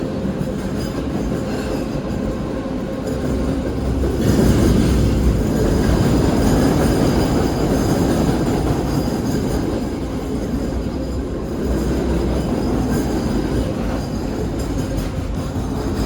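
A train rumbles steadily past close by a canal campground, a continuous loud roar of wheels and rail noise that swells midway and stays strong throughout.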